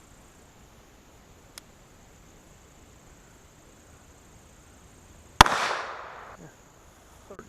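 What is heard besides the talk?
45 ACP Super pistol gunshot with Bullseye powder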